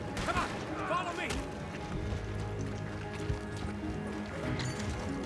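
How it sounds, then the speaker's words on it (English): Horses in a Western outlaw video game clop and shuffle with hoof steps and snorts, mixed with other game noises and people talking over them. "See the horses?"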